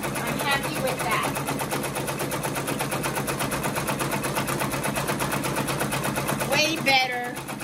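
An embroidery machine stitches a 3D puff design onto a hat in a rapid, steady mechanical rattle that runs throughout at moderate volume, with brief louder bursts near the end.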